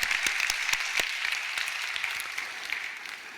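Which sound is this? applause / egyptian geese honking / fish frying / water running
applause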